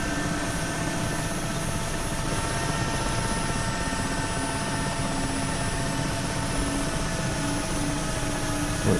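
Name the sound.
Mi-8 helicopter flying in DCS video game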